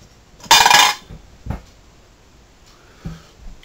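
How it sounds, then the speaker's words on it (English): A hot camping stove lifted and set aside, a loud metallic clatter up close followed by two softer knocks as it is put down, with quiet pauses between. "So we'll take the stove and set it off to one side."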